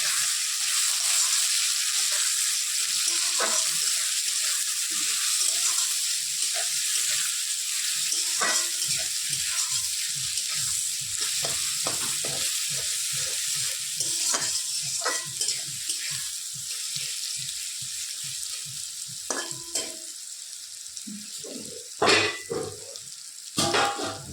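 Onions frying in a home kitchen pan give a steady broadband sizzle throughout, broken by a series of scraping stir strokes and a few sharper clinks near the end, with no voices.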